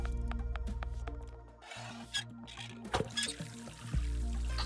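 Water pouring in the puzzle game BoxVille, a faint trickle and splash heard between soft mechanical hums and clicks in a quiet game scene.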